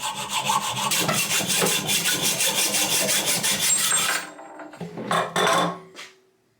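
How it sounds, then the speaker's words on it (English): A hacksaw rasps back and forth through a bicycle fork's aluminium steerer tube held in a vise, fast rhythmic strokes for about four seconds, then a pause and a few final short strokes, close and loud. "Tighten it down, take my hacksaw, and go to town."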